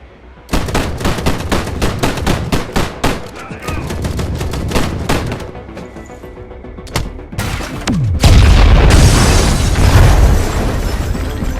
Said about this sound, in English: Does Alan always get shot at this much?